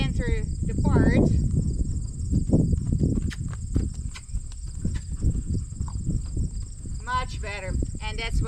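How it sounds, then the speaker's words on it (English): Horse hooves striking the ground during a canter depart in a riding session, fairly near rhythmic beats over a steady chorus of crickets, with brief voice sounds in between. "Let's see if I can get one more deliberate canter depart."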